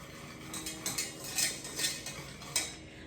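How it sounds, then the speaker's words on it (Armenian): A spoon stirring sugar and vanilla sugar into a cream mixture in a bowl, with soft rhythmic metallic clinks and scrapes against the dish, quiet and close. "Շաքարավազն ենք ավելացնում, մի փոքր խառնում ենք"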